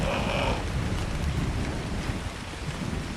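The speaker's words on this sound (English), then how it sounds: "I want you to listen to the waterfall" A waterfall in ARK Survival Ascended rushes in a steady, broadband roar, with a brighter splashing layer in the opening half second before it settles into a constant, moderately loud wash.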